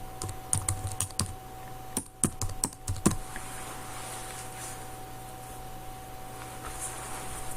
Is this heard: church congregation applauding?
no